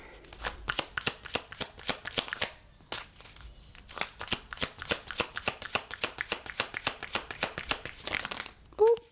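Tarot cards being shuffled by hand, a long run of rapid crisp riffling flicks in bursts with brief pauses, close and clear.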